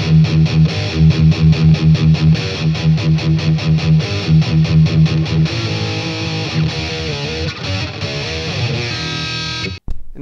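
Heavily distorted electric guitar through a BOSS Katana MK2 amp, playing fast chugging palm-muted riffs, then sustained ringing chords, loud and close with no talking.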